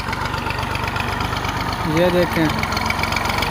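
A tractor engine idles and chugs steadily close by for the whole stretch, with someone speaking briefly over the running motor.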